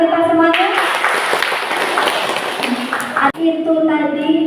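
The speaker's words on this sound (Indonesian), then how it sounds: "Luar biasa, tepuk tangan buat kita semuanya." Group applause at a Buddhist leadership training for young people and teaching staff, a steady burst of clapping lasting about three seconds that breaks off abruptly, with a voice talking just before and after.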